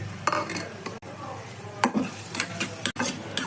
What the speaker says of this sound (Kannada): ಈರುಳ್ಳಿ ಸ್ವಲ್ಪ ಹಾಕೋತಾ ಇದ್ದೀನಿ ಒಂದು ಸಣ್ಣ ಈರುಳ್ಳಿ ಹಚ್ಚಿಟ್ಕೊಂಡಿದ್ದೆ